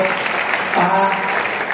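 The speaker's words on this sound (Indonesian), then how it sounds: "Berikan tepuk tangan untuk" An audience at a business session breaks into dense, sustained applause that fills the whole moment at close range, with a faint hint of voices underneath.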